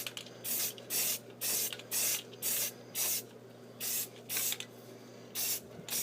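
Spray paint hisses in about a dozen short, even bursts from a can held close, laid on in light sweeping coats over a Hot Wheels toy car, with a steady low hum underneath and no talking.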